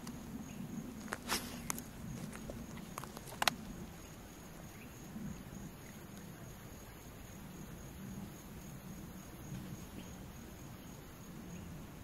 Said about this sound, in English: Heard a big old hickory nut fall out of the tree up there.